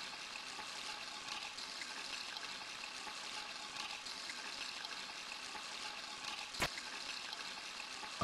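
Water runs steadily from a tap in the video game Deltarune, a continuous hissing trickle at low volume with one brief sharp click near the end.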